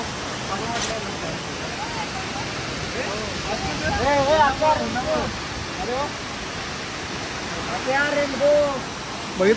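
A waterfall in Maharashtra, reached after a trek, gives a constant broad rushing roar, while several people talk and call out over it.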